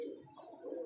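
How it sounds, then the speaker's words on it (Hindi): A Firozpuri slate pigeon coos softly nearby in a short, low, throaty burst that rises and falls twice, with no talking. "ये कबूतर हम लगा रहे हैं जी, हमारा फ़िरोज़पुरी सलेटा कबूतर है"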